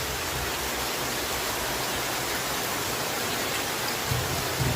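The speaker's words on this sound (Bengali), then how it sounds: "দেখেন বৃষ্টির কী পরিমাণ নামতেছে। শুধু বৃষ্টি আর বৃষ্টি।" Heavy rain falling in Bangladesh makes a steady, even hiss that fills the space, constant and unbroken, with a slight low thump near the end.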